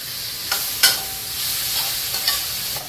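Tomatoes and Kashmiri red chilli powder frying in a pan at home, a soft steady sizzle broken by a few sharp scraping stirs of a spatula, with no voices.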